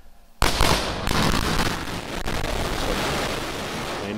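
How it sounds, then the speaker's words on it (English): Sonic booms from Falcon Heavy side boosters returning to land after the Psyche launch: a sudden sharp boom followed by a second thump, then a long, loud rumbling roar that fills the remaining seconds. "that sonic boom was great for us"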